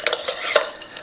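A utensil mixes food in a bowl, scraping and clinking against the sides in a quick, close flurry of rubbing strokes lasting about a second.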